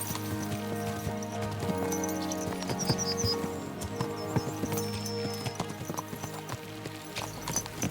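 Horses gallop in the medieval video game Kingdom Come Deliverance 2, rapid clip-clopping hooves close by with jingling tack, a rhythmic rolling gait that carries on throughout, plus a short whinny.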